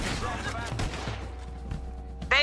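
Gunfire in a video game, a quick burst of several sharp shots in the first second, then quieter background and a bright noisy hit at the end, with voices present.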